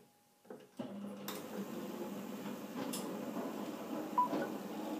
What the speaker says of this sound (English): let's turn its microwave on.